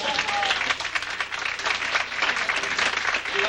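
Studio audience applause at a radio-style variety show, dense and sustained clapping from a large crowd at steady loudness throughout, without speech.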